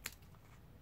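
Paper being cut with scissors, a single sharp, close snip at the start followed by quiet.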